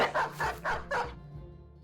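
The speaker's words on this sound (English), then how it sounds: "Good dog." Hounds bark in the Battle Brothers video game, four quick, fairly close woofs in a row that fade into a low whimper.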